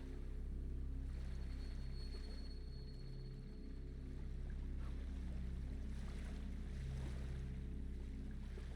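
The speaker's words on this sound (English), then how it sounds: "I awoke to the sounds of waves washing on rock" Waves washing on rock in the video game Salt and Sanctuary make a steady low surf and wind wash, faint and continuous under a soft ambient hum, with no speech.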